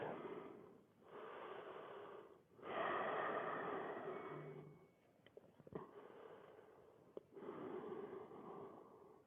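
Slow, deep breaths during a yoga child's pose, kneeling with forehead on the mat, heard as long, close breathy inhales and exhales with brief pauses between them and a few small clicks.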